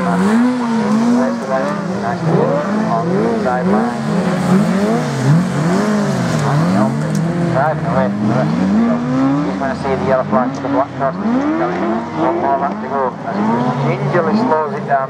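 Autograss race cars charging around a grass track, loud overlapping engine revs rising and falling in repeated sweeps as several cars accelerate and lift, with a commentator talking over the racing.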